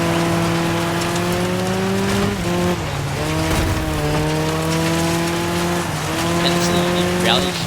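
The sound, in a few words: mid-engine rally GT car driving in video game Dirt 5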